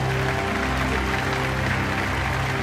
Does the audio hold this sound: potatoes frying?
no